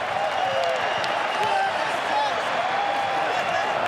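Cricket crowd at an Ashes Test match cheering and applauding a bowler's first Test wicket, a steady broad roar of voices and clapping, far and diffuse, sustained throughout.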